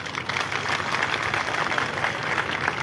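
Dense, sustained clapping from a crowd at a Koli community political gathering in Dhoraji, steady and fairly loud throughout with no pauses.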